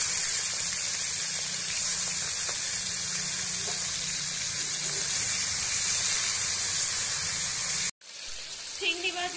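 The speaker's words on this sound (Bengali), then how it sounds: "প্রথমে আমি চিংড়ি মাছগুলো ভেজে নেব।" Prawns fry in hot oil in a wok with a constant, close hissing sizzle that holds steady for most of the stretch before cutting off abruptly near the end, followed by a brief quieter moment.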